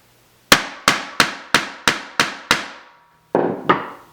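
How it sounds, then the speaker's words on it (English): A hammer strikes a metal hole punch through leather resting on a cutting board, seven sharp evenly spaced blows followed by a pause and two more hits, loud and close with no talking. "if it doesn't go all the way through, like this didn't, you can hammer again"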